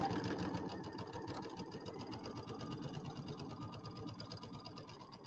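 A home sewing machine stitching a pieced birdhouse quilt square runs in a fast, even mechanical rattle, steady and fairly quiet throughout.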